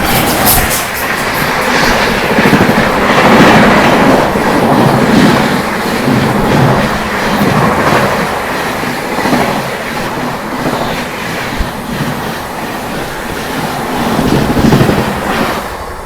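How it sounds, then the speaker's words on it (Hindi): The Delhi-Godda weekly express rushes past at Khaga railway station, loud and close, a continuous roar of rolling wagons with clattering wheels that swells and eases as it overtakes. "ये निकली भाई दिल्ली गोड्डा साप्ताहिक ट्रेन, जो अपने को खागा रेलवे स्टेशन पर ओवरटेक करके गई है।"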